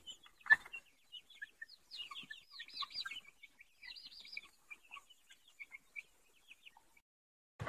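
Young, partly grown chickens in a large pen give soft clucks and chirps, scattered and close, with quiet gaps between calls and no voices.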